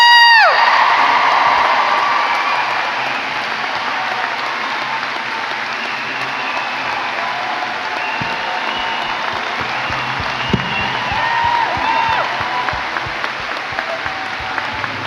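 A large school convocation crowd applauds and cheers for staff, dense sustained clapping filling the hall with scattered whoops and shouts, swelling at first and then continuing steadily.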